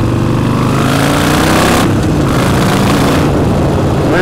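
A small 1200 Harley-Davidson with an open exhaust revs loud and near, the engine roaring steadily with rising and falling throttle and no voices.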